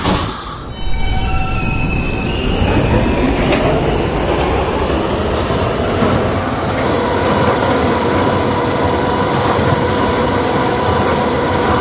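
A New York subway B train, an R160B car, rumbles loudly along the tracks, wheels screeching at first before settling into a steady roaring clatter that continues throughout.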